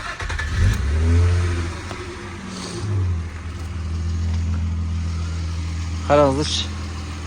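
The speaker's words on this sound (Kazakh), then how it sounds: "Қозғалтқыш қалай жұмыс істеп тұр." Engine of a used car with about 335,000 km on the clock, running steadily at a low, even idle close by, with a brief rise partway through, under someone talking.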